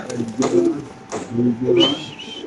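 Large male pigeons in a cage give several soft, throaty coos in quick succession, close by, with a brief higher call near the end.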